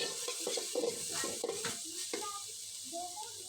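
Onions with ginger paste frying in a pan, a spatula scraping and stirring in short strokes over a constant close sizzle, with a voice speaking briefly in the background.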